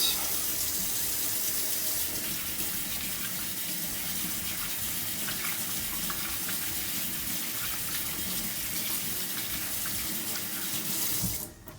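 Hands are washed under a running kitchen tap after handling air filter cleaner, a steady loud gush of water splashing into a sink for the whole stretch, close by, then cut off abruptly at the end.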